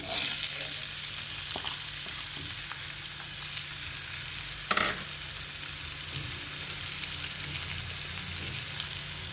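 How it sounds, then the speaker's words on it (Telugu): Curry leaves, onion and green chillies frying in hot oil in a pan, giving a steady, close sizzle throughout with a brief stir or clatter near the middle, no voices. "కరివేపాకు, ఉల్లిపాయ, పచ్చిమిర్చి వేసేస్తున్నాను."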